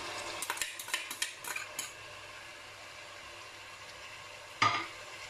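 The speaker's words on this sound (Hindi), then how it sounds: "अच्छा सा मिक्स करेंगे इसको।" A spoon stirs achar gosht meat with onion puree in a pan: a quick run of soft scraping clinks over a gentle sizzle, then a pause and one sharper metallic knock near the end.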